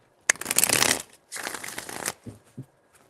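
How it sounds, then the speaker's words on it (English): Tarot cards are shuffled close up in two quick riffling bursts, followed by a couple of soft taps as the deck settles. "4 shuffles."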